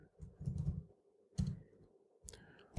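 A terminal command typed on a computer keyboard, with short bursts of close key clicks separated by pauses, quiet and without talk.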